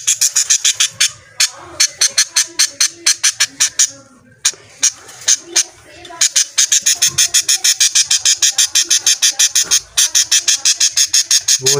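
Caged budgerigars squawking loudly in fast, rhythmic bursts as their cage is shaken, harsh repeated calls close to the microphone with a brief pause partway through.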